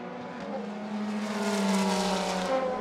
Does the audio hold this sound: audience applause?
no